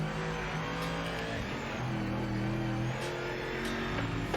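An Aston Martin race car in the racing game Project Motor Racing runs steadily throughout, its engine droning with shifting revs and gear changes and faint tire noise, no voices.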